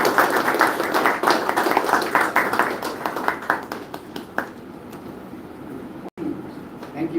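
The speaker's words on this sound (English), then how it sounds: "So please, with a great applause, let us invite Mr. Mohammed Arfan Asif." An audience at a Photographic Society of India event applauds to welcome a speaker, a dense burst of clapping that thins out and fades after a few seconds into quiet room noise.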